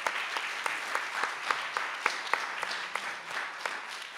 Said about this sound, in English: I'd just ask for one more round of applause for all the panelists